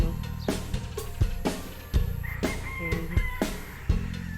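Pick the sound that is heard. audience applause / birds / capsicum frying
birds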